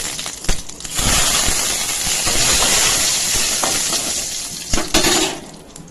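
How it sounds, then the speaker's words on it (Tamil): Tomato rasam poured into a pan of hot oil tempered with mustard seeds, curry leaves and dried red chillies, bursting into a loud, steady sizzle and hiss that fades near the end with a few clinks. "கடாயில் கொஞ்சோண்டு எண்ணெய் விட்டு கடுகு, கருவேப்பிலை, 3 பட்டை மிளகாய் போட்டு தாளிச்சிட்டு நம்ம கரைச்சி வச்சுருக்க ரசத்தை எடுத்து இதில் ஊற்றிடலாம்."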